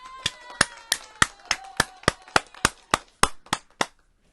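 A run of about a dozen sharp, evenly spaced claps, like a single pair of hands or a clap sound effect, standing alone and crisp with no crowd behind it.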